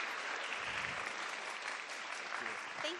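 A studio crowd applauds steadily to welcome a guest host, The Hollywood Reporter journalist Carolyn Giardina, onto the stage at a women-in-digital-production event; dense, even clapping throughout with no pauses.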